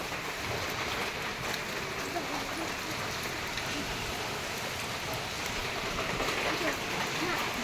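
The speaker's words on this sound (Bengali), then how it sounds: "এত বৃষ্টি আর কমছে না" Dense, steady rain pours down in a continuous even hiss, close and unbroken from start to finish.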